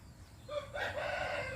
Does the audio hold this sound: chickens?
yes